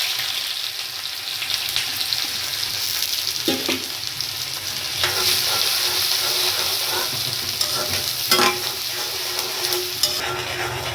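Chopped onion pieces fry and sizzle steadily in hot oil with clove and a bay leaf for lauki kofta gravy, with occasional stirring scrapes, close and even throughout.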